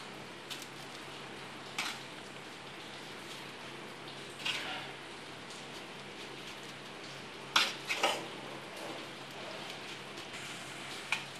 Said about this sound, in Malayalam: ഇനി നമുക്കിതൊരു സെറ്റ് ചെയ്യാൻ വെച്ചിരിക്കുന്ന പ്ലേറ്റിലേക്ക് മാറ്റാം